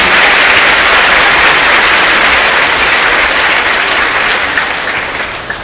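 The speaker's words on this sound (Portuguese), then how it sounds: "uma calorosa salva de palmas." A congregation in church gives a warm round of applause, dense and loud from many hands, filling the space evenly and tapering slightly toward the end.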